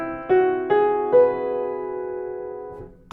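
Scriabin's set 5-30 'Baby Mystic' chord played as a scale on a sustained keyboard tone, three clear ascending notes struck in turn and left to ring and fade, alone and close.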